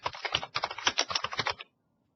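Quick, steady typing on a computer keyboard as a tab name is changed in a profile editor, a close run of crisp key clicks lasting about a second and a half before stopping into silence.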